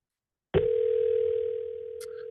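A telephone dial tone begins abruptly after a number is dialed, a steady continuous hum that holds and slowly softens, with a brief electronic blip near the end.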